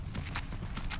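Horse hooves clip-clop in the Skyrim video game near Windhelm, a steady close walking rhythm of several soft thudding steps.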